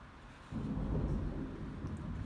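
Thunder from a lightning storm rolls in as a deep, swelling low rumble after half a second and keeps grumbling steadily, fairly loud and unbroken, with no voices over it.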